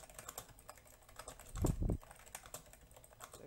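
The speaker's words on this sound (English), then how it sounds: "I hear a lot of typing." Faint, rapid typing on a computer keyboard comes through a voice-chat line during an online gaming session, with scattered key clicks and one slightly louder burst of keystrokes in the middle.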